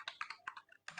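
Quick, light keystrokes on a computer keyboard, several clicks in an uneven burst, close and fairly quiet with no talking.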